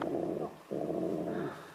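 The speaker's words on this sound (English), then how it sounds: "Deep, rumbling growls rolled through the darkness" A dog growls in two long, deep, rumbling bursts separated by a brief pause, close and fairly loud.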